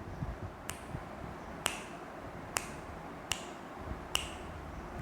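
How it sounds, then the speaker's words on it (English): Children clap for themselves five times during an online English class. Five sharp, evenly spaced claps sound close over a faint background hiss. "Clap for yourself 5 times."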